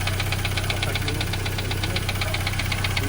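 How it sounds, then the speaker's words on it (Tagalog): Mitsubishi Xpander engine idling after an oil change with very thick oil, giving a rapid metallic knocking or ticking from the timing chain over a steady low hum, close up and continuous. "Yan, yung ingay ng expander mga boss."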